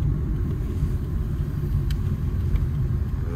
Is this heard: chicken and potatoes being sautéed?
no